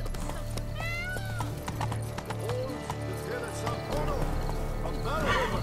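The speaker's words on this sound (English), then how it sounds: "Better off on horseback." A horse in The Witcher 3 video game clops along at a steady gallop with repeated whinnies and neighs, set against game music and brief character voices.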